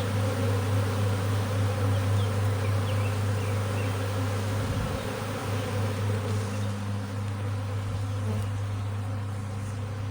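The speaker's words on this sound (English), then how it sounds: "Yeah, it's a smaller swarm." A small honey bee swarm of roughly ten to twelve thousand bees in a bush, a dense, steady buzzing drone that stays loud and constant throughout, close by with no talking.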